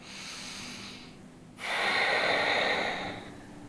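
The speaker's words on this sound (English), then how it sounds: "Deep breaths here, expanding the waist with the inhales, softening into the shape with your exhales." Deep, audible breathing during a yoga side-stretch pose, a soft exhale fading into a brief pause and then a long, strong, airy breath through the nose, close and unaccompanied by talk.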